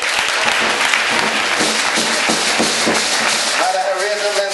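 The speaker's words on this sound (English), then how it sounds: "Please clap for her." Loud, sustained applause from an audience at an International Women's Day program, dense clapping continuing steadily throughout, a voice briefly starting to speak as it fades.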